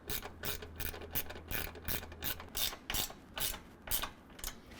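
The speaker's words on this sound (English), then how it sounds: "I'm using a ratcheting wrench." Ratcheting wrench tightening 13mm bolts while mounting hoop steps on a 2023 Ford F-250, a rapid run of clicking pawl bursts repeating steadily, close and fairly crisp with no talk.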